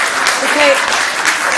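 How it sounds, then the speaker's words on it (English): Audience applause in a city council chamber during a public meeting, broad steady clapping filling the room for over a second while a voice speaks briefly over it. "We're not supposed to clap."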